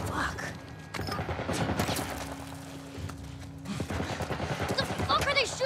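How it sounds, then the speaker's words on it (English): Rapid military turret gunfire in The Last of Us Part 1, a steady stream of sharp shots under a continuous din, with a voice talking over parts of it. "What the fuck are they shooting at us with? Some kind of military turret"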